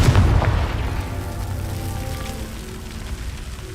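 A Confringo spell in a video game goes off as a loud, close boom with a deep low thud that fades into a crackling, rain-like rumble.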